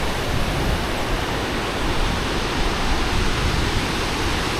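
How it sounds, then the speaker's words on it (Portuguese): Close-up roar of the Garganta do Diabo waterfall in Lages, Serra Catarinense, a steady, dense broadband rush of falling water that stays loud and even throughout, with no voices. "A gente tem esse close aí da cachoeira."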